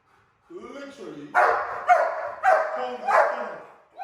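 Dogs in K9 combat training bite and tear at padded training sleeves, whining at first and then giving four loud, close, rhythmic barks.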